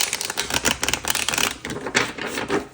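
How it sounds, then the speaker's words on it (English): Tarot cards shuffled by hand in a pick-a-card reading, a rapid run of crisp riffling clicks and flutters, close and fairly loud, with no talking. "I want to shuffle one more time."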